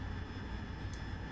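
Steady, low jet engine roar of an AV-8B Harrier in a flight simulator game, a continuous even drone heard alone at a fairly quiet level.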